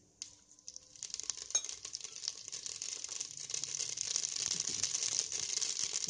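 Mustard seeds spluttering in hot oil, a dense crackling and popping sizzle that starts after a moment and grows steadily louder and busier, close and alone.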